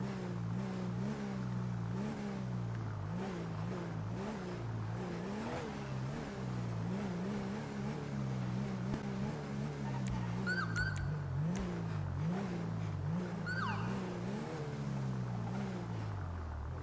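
A car engine in the GTA video game drones and revs in repeated surges, a steady close-up mechanical hum with fluctuating pitch throughout and a few brief high chirps near the end.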